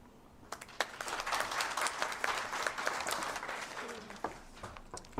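Conference audience applause, a steady wash of many hands clapping at moderate volume that swells and then gradually thins out toward the end.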